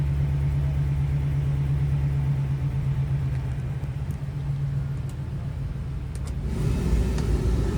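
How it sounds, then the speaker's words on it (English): A 2016 Ford E350 Super Duty 16-foot box truck with a 5.4-liter V8 and about 199,000 miles runs with a steady low engine rumble close by, a tone that shifts slightly near the end. "The truck is running and looking great."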